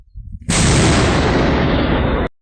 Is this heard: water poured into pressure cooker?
no